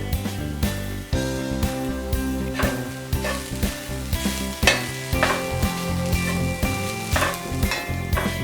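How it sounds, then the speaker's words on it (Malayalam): Shredded chicken and half a cup of grated coconut stirred and fried in a pan for Kerala chicken puttu stuffing, with steady sizzling and repeated scraping stir strokes up close. "ഇനി ഷ്രെഡ് ചെയ്ത് വെച്ച് ചിക്കൻ ആഡ് ചെയ്ത് കൊടുക്കാം."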